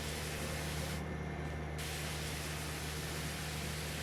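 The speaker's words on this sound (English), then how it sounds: "Spray off the sprayer" A pressure washer sprays off a sprayer in the video game Farming Simulator 25, a steady loud broadband hiss with a low engine hum that holds without a break, with no voices.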